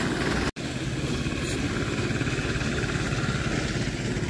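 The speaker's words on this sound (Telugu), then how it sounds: "ఫ్లైట్ అనేది కంటిన్యూగా తిరుగుతూనే ఉందండి." Aircraft circling continuously over the Qutub Minar monument in Delhi, a steady droning engine roar that holds unbroken and fairly loud, briefly cut out once near the start, with no talking.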